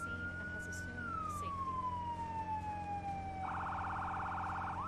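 A fire engine siren wails in Firefighting Simulator, a long falling tone that changes to a rapid yelping pattern, fairly faint under steady background noise.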